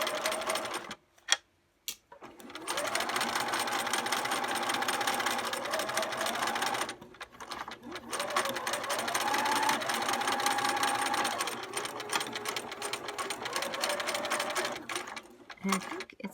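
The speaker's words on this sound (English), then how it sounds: "And I'm just going to stitch around the perimeter of the block." A sewing machine stitches around the perimeter of a quilt block, running in long steady whirring bursts with short pauses between them, close and fairly loud, with a dry mechanical rattle that suggests it needs oil; a voice talks briefly near the start.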